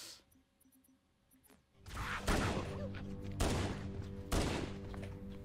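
Gunfire in Halo: Combat Evolved: after a quiet start, three heavy bursts of shots and impacts land about a second apart, loud and close, with game background sounds in between.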